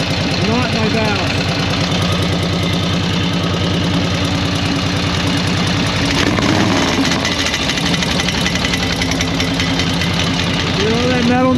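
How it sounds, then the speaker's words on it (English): A flathead engine idles close by with a steady, lumpy beat while the loose rear exhaust pipe rattles and clanks with a metallic tapping, and someone talks over it. "The exhaust pipe, the rear one, bouncing in and out of there, causing the metal noise, not my valve."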